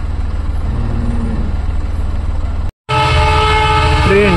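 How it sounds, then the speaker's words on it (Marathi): Train passing a level crossing where road traffic waits, a loud steady rumble with a short dropout, then a brighter stretch of sustained horn-like tones close by. "ही बघा ट्रेन जाते."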